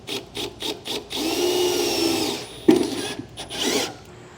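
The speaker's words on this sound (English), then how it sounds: "We're going to make pilot holes with our 1/8 drill bit." A power drill with a 1/8 inch bit bores pilot holes for bolt holes near the wheel well during installation of a B and W custom installation kit with base rails. Several short close bursts are followed by a longer steady whine, then a sharp contact and more drilling.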